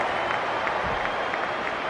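A crowd at a rugby league match applauds a try with steady, dense clapping and some crowd noise that holds at an even level throughout.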